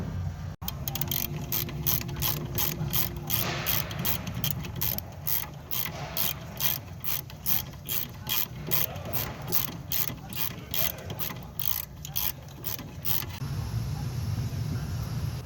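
Hand ratchet tightening bolts on the rear brake assembly of a Hyundai Sonata during a pad and rotor replacement, a rapid, even clicking that runs steadily for over ten seconds, close and loud, then stops.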